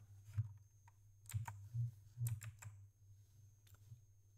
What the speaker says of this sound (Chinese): 然后在这里输入